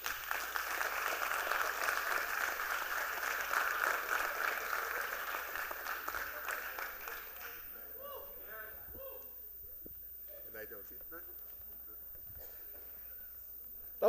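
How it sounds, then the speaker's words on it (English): An audience at a youth town hall claps in a sustained round of applause that holds for several seconds before it dies away, leaving quieter room sound and low talk. "So I need you to clap a little extra for the man that paying the bills, Department of Labor Commissioner Gary Mallo"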